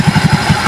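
A Suzuki Shooter 115 FI motorcycle engine running after a full overhaul: a close, steady idle of low, rapid, even pulses, loud and alone.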